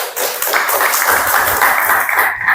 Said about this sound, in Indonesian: beri aplaus untuk kelompok Yasmin